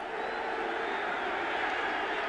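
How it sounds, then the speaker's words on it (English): A vocal stadium crowd roars steadily at a 1980 Falcons versus Patriots football game at Schaefer Stadium, a dense, sustained wall of cheering voices with no breaks across the whole moment. "And this crowd, very vocal right now."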